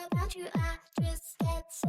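Punchy electronic kick drum hits land on every beat at about 140 BPM, five deep, booming thumps with fast downward pitch sweeps, evenly spaced and alone.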